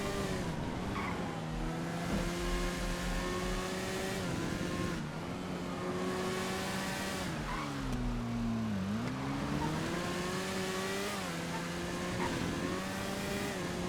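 A Cucho drag motorcycle engine drones steadily in GTA FiveM, holding a sustained revving tone that rises and dips in pitch as the bike speeds along, loud and continuous with no talk.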